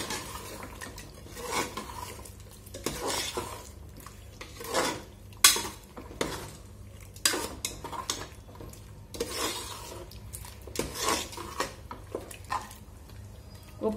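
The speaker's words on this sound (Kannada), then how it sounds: "ಒಂದ್ಸಲ ಮಿಕ್ಸ್ ಮಾಡಿಕೊಳ್ಳುವ ಇದನ್ನು" Chicken biryani masala stirred in a pot on the stove, with repeated scrapes and clinks of a metal spoon against the pot in an uneven rhythm, close and fairly quiet with no voices.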